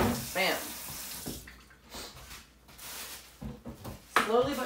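A kitchen sink tap runs while something is washed during cooking, the water rushing in bursts, with a voice speaking over parts of it.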